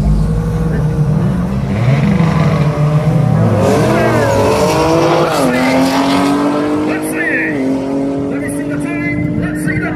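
A Mitsubishi Evolution 9 race car revs hard at a drag race, its engine note climbing in rising sweeps and then holding at a high pitch, with a brief tire squeal. Loud and close, with people talking over it throughout.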